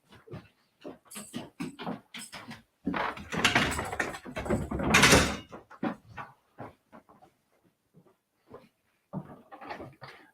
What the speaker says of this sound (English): I just got to sort my dog because he is whimpering